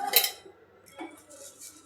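One or two spoons of oil added to a heating pan for a capsicum stir-fry: a bright metallic clink of spoon on pan at the start, then a second softer tap, close and alone.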